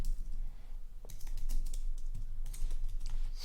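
Someone types on a computer keyboard in a quiet room, with bursts of quick, light key clicks and short pauses between them.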